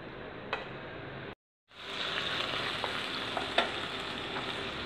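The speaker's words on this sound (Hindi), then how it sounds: "3 से 4 मिनट हम चिकन को सौते करेंगे।" Chicken sautés in oil with a strong, continuous sizzle up close, briefly cut to silence before resuming, with occasional light clicks from stirring in the pan.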